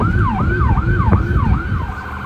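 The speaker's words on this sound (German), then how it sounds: "Kommt schon Sirenen." An emergency siren in a video game wails in a steady, rapidly repeating rise-and-fall pattern, loud and continuous over a low rumbling backdrop, with no talking.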